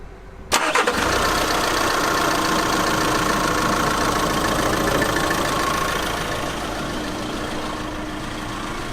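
A camper van engine cranks and catches about half a second in, then settles into a steady, loud idle with a constant drone that eases slightly toward the end.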